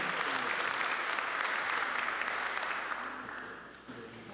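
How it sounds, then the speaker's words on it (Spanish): A conference audience at a parliamentary law congress applauds warmly to welcome the moderator, a dense steady clapping that holds for several seconds before thinning slightly at the end. "la doctora Juliana Lastres Blanco, quien la vamos a recibir con fuerte aplauso"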